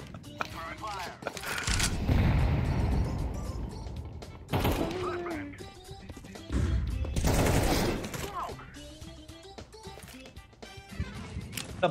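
Rapid bursts of gunfire from Counter-Strike 2 game matches, loud sustained volleys around two seconds and again near seven seconds, with scattered single shots and clatter in between and people talking over the action.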